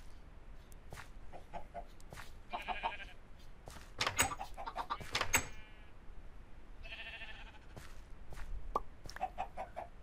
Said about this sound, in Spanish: Voy a hacer más pollitos porque me encantan los pollitos.